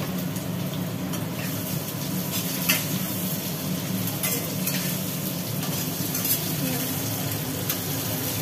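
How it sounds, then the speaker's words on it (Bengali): Potato and green jackfruit fry in a pan with cumin seeds, a steady close sizzle broken by frequent light scrapes and stirring clicks, with no voice. "এগুলো ভাজি ভাজি হোক একটু।"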